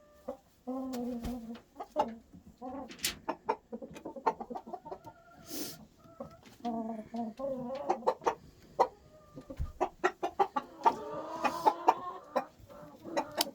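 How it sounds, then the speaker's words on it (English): A group of roosters clucks and crows together at close range in irregular bursts of varying loudness, with no talk over them. "There's all the roosters all together."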